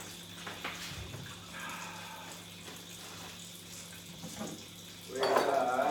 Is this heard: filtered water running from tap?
yes